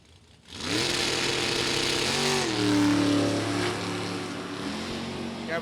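A green Oldsmobile and a hot rod launch side by side at an NHRA Sportsnationals drag race, engines bursting in abruptly and roaring loud and steady, pitch climbing and shifting through gears as they accelerate down the strip.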